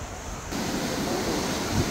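Huka Falls on New Zealand's Waikato River roars as a steady, dense rush of falling water, with no voices over it.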